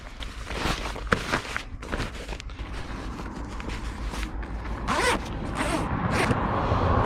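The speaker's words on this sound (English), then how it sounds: "Good big zip on it." Zipper on a robust inflatable kayak carry bag being drawn closed, a run of rasping pulls with rustling handling and creaks of fabric in between, close and fairly loud, no talking.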